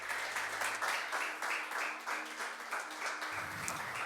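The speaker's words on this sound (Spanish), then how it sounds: "Un aplauso al Señor donde estás ahí." A church congregation applauds the Lord during a sermon, with a quiet, fairly distant wash of clapping that continues steadily throughout, and a low hum rising near the end.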